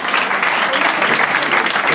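An audience at a jazz concert of Neapolitan classics applauds. Steady clapping is dense, loud and close, continuing without a break for a couple of seconds.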